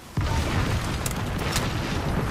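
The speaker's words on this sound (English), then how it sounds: "That nade was huge" A grenade goes off in a first-person shooter, a sudden loud blast followed by a sustained rumbling roar with crackling debris, close and heavy with no talk over it.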